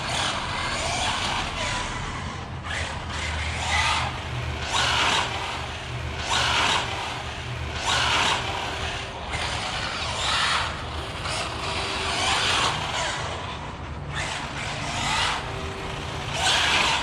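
A Losi Super Baja Rey RC truck drives around outdoors, its electric motor whining and surging in repeated bursts of acceleration with tire and gravel noise, moderately close, with no speech.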